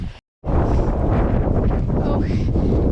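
Heavy wind buffets the microphone in a constant low roar on a hilltop near Pen-y-ghent in Yorkshire, broken only by a brief dropout near the start.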